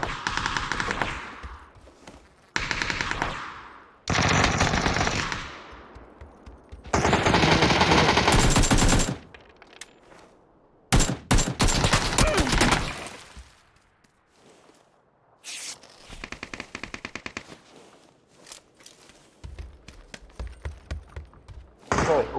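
Shooter video game gunfire: loud automatic bursts and rapid volleys crackle in separate blasts of one to two seconds, broken by short silences, with a couple of sharper single thumps near the end.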